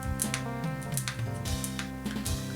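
Crunchy plastic clicks and creaks from folding headphones in an irregular cluster, close up and fairly loud, with no voices.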